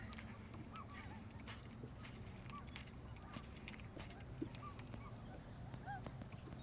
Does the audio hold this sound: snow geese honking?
yes